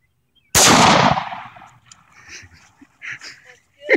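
A single loud, close blast from a 28 gauge shotgun fired outdoors, followed by a decaying echo and then faint voices talking in the background.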